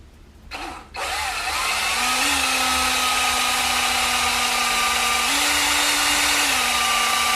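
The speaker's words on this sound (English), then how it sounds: "What I'm doing here is just drilling a couple holes in this" Power drill boring holes through a metal table light bracket, a loud steady high whine that starts after a short burst and holds continuously, rising slightly in pitch midway.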